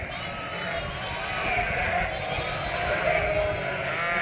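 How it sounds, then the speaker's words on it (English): Many Primera ewes and lambs bleating together in a pen on a sunny farm day, a continuous overlapping chorus of close and distant calls. "Now we're getting some ewes in to castrate the lambs"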